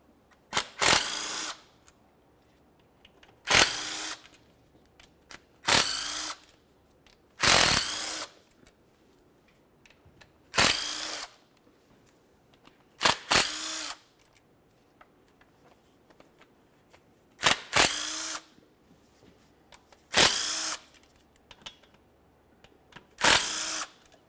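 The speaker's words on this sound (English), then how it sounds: "I'm going to continue on by removing all of my 8mm mounting bolts" Power tool spinning out 8mm mounting bolts from the transmission oil pan of a 2005-2010 Chevrolet Cobalt: about ten short, loud bursts roughly two seconds apart, with quiet gaps between them and no talk.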